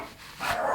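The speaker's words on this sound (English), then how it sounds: "there's just dogs barking everywhere" Dogs bark in short bursts around a mother's house, a brief near yelp rising out of quiet room tone with no talk over it.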